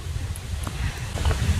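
Steady wind gusts rumble and buffet the microphone on an Appalachian Trail hiking path, a low continuous roar with faint rustling, close and moderately loud, with no speech.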